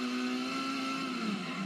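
Car engine in the video game GTA, a steady droning whine at constant pitch that dips slightly near the end, moderately loud and alone.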